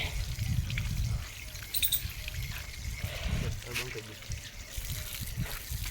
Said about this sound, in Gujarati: ભાઈ મારે હાથ પગ ધોવા છે